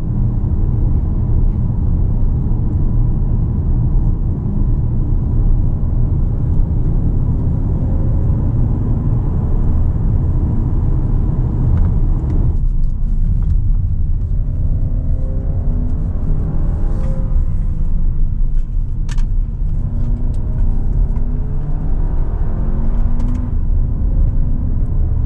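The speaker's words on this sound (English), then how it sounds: "So I'm just gonna drive here around town, around roads that I know." Volkswagen Arteon driving on town roads, heard from inside as a steady, loud low engine and road rumble that continues without a break, with no talk over it.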